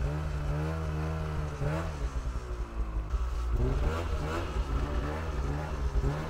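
A snowmobile engine revs hard at wide-open throttle, a loud, sustained droning roar whose pitch rises and dips as it strains, with occasional voices underneath.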